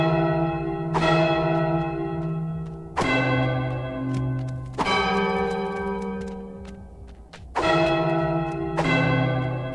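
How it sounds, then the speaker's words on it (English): A goat headbutts church bells in Goat Simulator 3, sending out a slow sequence of five loud, ringing bell strikes at different pitches, each tone sustaining and decaying before the next hit. "You simply need to headbutt the bells in the order that I do."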